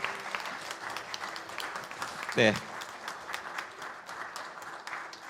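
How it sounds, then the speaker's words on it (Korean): Church congregation applauding during a Sunday worship service, steady dense clapping filling the room throughout, with a brief spoken word over it. "큰 박수로 격려해 주시기 바랍니다"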